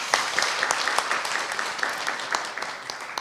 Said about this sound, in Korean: 힘찬 박수 한번 부탁드리겠습니다.